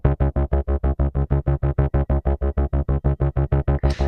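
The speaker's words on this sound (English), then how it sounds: "is a nice little bass line." Synth bass line played on the Monark synthesizer in Native Instruments Komplete 9: a fast, even run of punchy repeated notes in a steady pulse, loud and close, with no voices over it.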